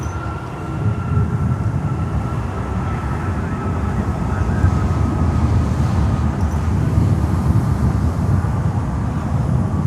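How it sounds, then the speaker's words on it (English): A Boeing Dreamlifter cargo aircraft taxiing at Miami airport gives off a steady, dense jet rumble that holds at an even loudness for the whole stretch, with a faint high whine above it. "So the Dreamlifter is taxiing"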